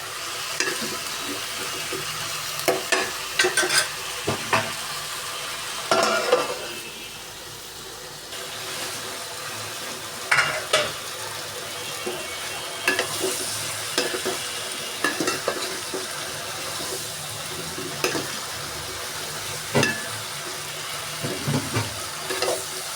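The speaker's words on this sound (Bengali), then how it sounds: "এগুলো প্রায় কষানো হয়ে গেছে।" Spices stirred into a frying pan with salt, turmeric and chili, a steady sizzle broken by repeated scraping strokes of the spoon, close and fairly loud, with no talking.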